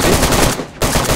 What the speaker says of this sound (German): Schüsse vor uns?